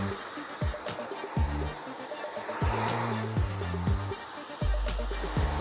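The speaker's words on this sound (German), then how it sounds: "dann kann es im Prinzip mit dem Föhnen" A handheld hair dryer blows steadily on voluminous hair, a close, continuous airy roar that shifts in pitch as the speed setting clicks and changes several times.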